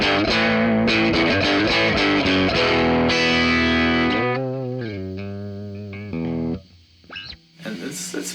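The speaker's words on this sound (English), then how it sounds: "And then let's try the super distortion." Electric guitar fitted with a Super Distortion pickup on a circa 1987 instrument, played loud and distorted with sustained chords and riffs, then quieter sparse notes with gaps and a final burst near the end.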